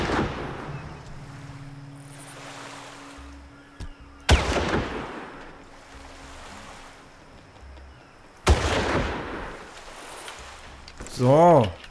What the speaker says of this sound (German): 3 Schuss, 3 Treffer.